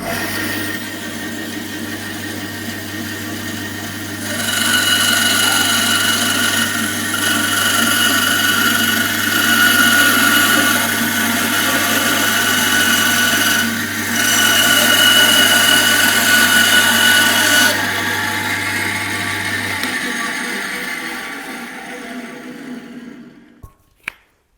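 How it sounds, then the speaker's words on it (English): A bandsaw with a thin blade cuts a curve through a piece of timber: a steady whining motor hum that grows louder and harsher during the cut, then winds down after about twenty seconds, followed by a few faint clicks. "You can see that was easy to cut this curve in that piece of timber."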